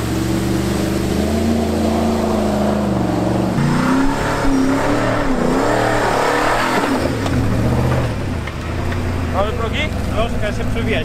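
A Ford F150 Raptor's 6.2-litre V8 rumbles and revs while driving off-road, a loud, steady engine drone with rising and falling pitch, and a voice talks over it.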